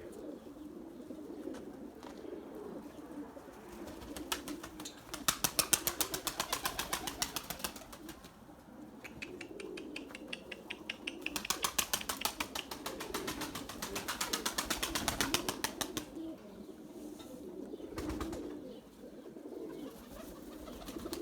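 Pigeons in a coop with young birds, heard as soft, repeated throaty cooing in long rolling phrases, moderately near and fairly quiet, with a faint background hum.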